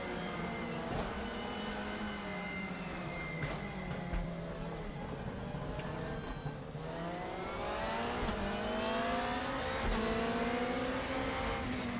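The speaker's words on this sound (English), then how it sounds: "Car sounds aggressive though, the BMW." A BMW race car in the RaceRoom racing game revs hard through rising and falling gear pulls, its engine note loud, aggressive and slightly distorted, with no talk over it.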